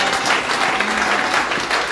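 A church audience applauding for Bishop Wangi, with brief, dense clapping at a steady level and a faint voice murmuring underneath.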